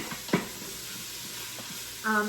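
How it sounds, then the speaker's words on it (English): Yellow onions sauteing in an Instant Pot, stirred with a wooden spoon, giving a soft continuous sizzle with a couple of brief scrapes and a short tonal beep near the end. "But we're sauteing our onions"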